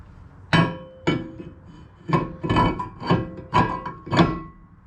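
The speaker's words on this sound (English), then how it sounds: "I'll start throwing the rotor on here." Brake rotor from a big brake kit fitted onto a 2006-2011 Honda Civic LX hub, giving about seven sharp metallic clanks and knocks at irregular intervals, close and fairly loud.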